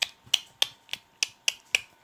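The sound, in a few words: dog moving around the living room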